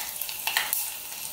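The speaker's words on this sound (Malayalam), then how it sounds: "കൂടെ കറിവേപ്പില കൂടി ഇട്ട് കൊടുക്കുവാണ്." Curry leaves and mustard seeds sizzle in hot oil while preparing a tempering for kachil puzhukku, a steady close frying hiss with a few brief crackling pops.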